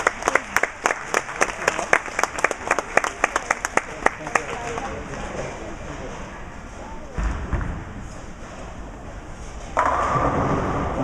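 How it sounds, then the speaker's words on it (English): Spectators at a junior girls' scratch bowling tournament final clap in sharp, rhythmic bursts for several seconds, then the applause fades into a murmuring crowd with some talk and hall noise. "No surprise that it's Jennifer leading the applause and a big old smile on Caitlin's face when she came back from that one."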